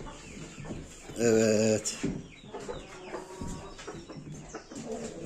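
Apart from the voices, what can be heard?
chickens and roosters clucking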